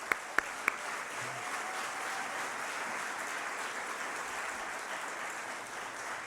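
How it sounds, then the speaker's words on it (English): Distant crowd applause at an outdoor healthcare activist rally on Long Island, a faint, steady wash of clapping with a few sharp nearer claps at the start, continuing evenly for several seconds. "you ought to give yourselves a round of applause"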